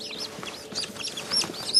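Chickens clucking and chirping in a small coop area, a run of soft irregular calls at close range over light background noise.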